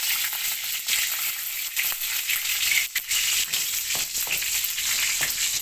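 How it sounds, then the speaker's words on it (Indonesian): Sliced shallots fry in a little hot cooking oil in a wok, a steady loud sizzle with occasional scraping and stirring clicks, close up and with no talk. "Tuangkan minyak goreng ke wajan, sedikit saja. Panaskan. Tambahkan irisan bawang merah."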